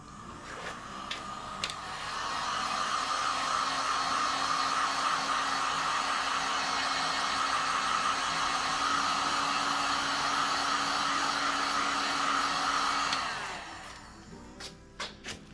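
Hair dryer blowing steadily to dry new sheathing, starting up after a couple of light clicks, holding a loud, even whoosh for about eleven seconds, then switching off followed by a few taps.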